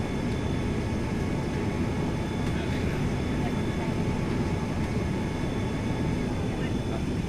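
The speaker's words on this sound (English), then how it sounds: "I want to listen to flap retraction." Inside the cockpit of a FlyJSim 737-200 in a flight simulator during flap retraction, a steady loud drone of engine and airflow noise fills the cabin, with a faint mechanical whir underneath.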